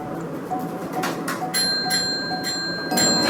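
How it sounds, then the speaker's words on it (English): A cat rings a small bell in a home during training, producing several bright metallic dings that grow more frequent toward the end over a quiet room background. "For step 5, I decided to test them to see if they would still ring the bell"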